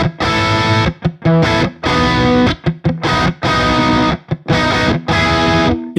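A heavily distorted electric guitar played through a Polychrome DSP Nunchuck amp simulator chugs out loud, rhythmic chords, its chunky bursts cut by short, tight stops.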